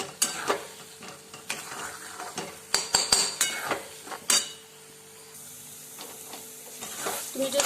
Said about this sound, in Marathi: जसं हलवाल तसं तसं ते त्याला घट्टपणा येत राहतो हलवत राहायचं आहे नाहीतर ते खाली चिटकतं